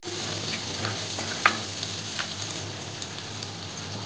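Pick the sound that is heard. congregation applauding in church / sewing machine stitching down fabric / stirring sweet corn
stirring sweet corn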